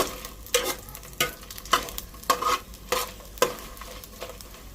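Dried red chillies frying in oil on a low flame, a quiet sizzle broken by a regular series of sharp stirring scrapes roughly every half second, close by, with no speech.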